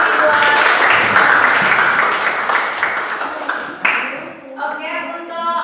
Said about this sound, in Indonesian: tepuk tangan lagi sekali buat